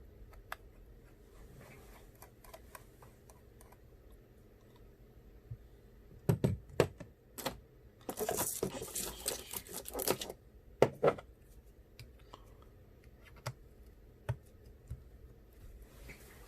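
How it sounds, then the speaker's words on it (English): Small screwdriver backing out the two bottom screws of an iPhone 8 during an LCD replacement, heard as quiet scattered ticks and brief scratchy bursts close up in an otherwise hushed room, with no talking. "open the bottom two screws"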